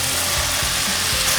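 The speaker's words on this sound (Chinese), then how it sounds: "快速的翻炒。" Tomatoes and white seafood mushrooms sizzle loudly as they are quickly stir-fried in a wok, a close, steady frying hiss broken by faint scrapes and knocks of the spatula.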